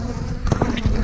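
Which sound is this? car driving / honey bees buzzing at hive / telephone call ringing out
honey bees buzzing at hive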